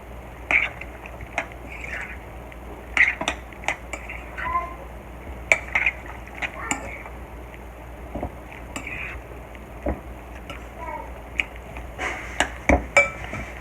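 Stuffed crab mixture stirred with an egg in a bowl, scattered clinks and scrapes of a utensil against the bowl in irregular bursts over a quiet room background.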